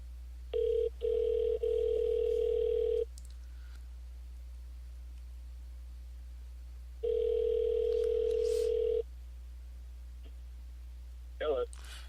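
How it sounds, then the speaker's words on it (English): A telephone on a radio call-in line rings in two long electronic bursts separated by a few seconds of quiet, with a steady low hum underneath and a brief click near the end. "Let that phone ring a little bit."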